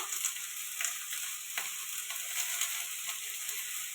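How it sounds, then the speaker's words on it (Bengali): Steady hiss and crackle of food sizzling in hot oil, continuous and close, with faint scraping clicks now and then. "কড়া তেল দিয়ে দিলাম আলুগুলো দিয়ে দিলাম"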